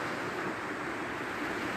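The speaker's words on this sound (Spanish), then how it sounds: "este mar que tengo acá de fondo de mi casa" Sea surf behind a seaside house, a steady broad wash of waves and wind noise filling the background without pause, moderately loud and with no talking.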